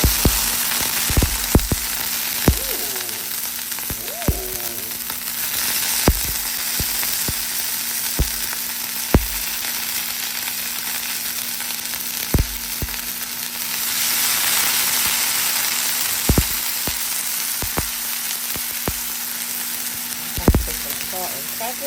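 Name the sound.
broccoli frying in a hot pan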